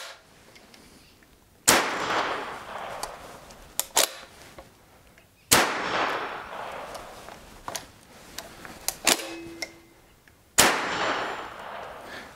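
Thompson 1927 A1 Tommy Gun firing its last rounds: three sharp, loud single shots spaced several seconds apart, each followed by metallic clinks of brass and ringing echo, with no talking.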